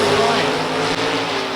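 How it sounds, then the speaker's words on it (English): A 350 small-block fuel-injected drag racing car roars at a steady, loud, continuous pitch close by, with an announcer talking over it at a racing event. "the 350 small block, fuel injection machine left-hand lane, and Dan Kyle"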